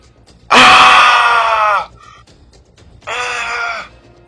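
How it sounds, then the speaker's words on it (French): A man screams in pain after his leg is caught in a bear trap: one long loud cry, a pause, then a second shorter cry, close and alone. "Il hurle de douleur."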